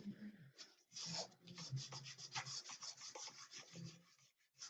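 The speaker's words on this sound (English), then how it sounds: "Burnish it down." Cricut scraper tool burnishing a card down, a quiet close scratchy rubbing in quick back-and-forth strokes.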